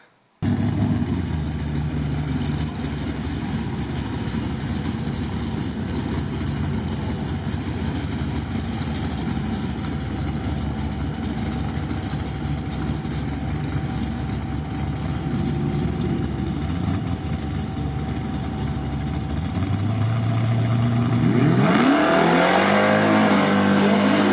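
A nitrous-fed Chevy S10 drag truck roars loudly and steadily down the strip for about twenty seconds, a dense, continuous engine drone that shifts and rises near the end.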